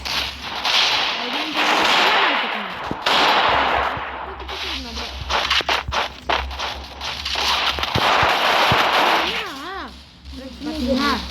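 Gunfire in the Free Fire Max mobile battle game comes as repeated sharp cracks and bursts, loud and close, spread across the stretch with busy game effects behind it.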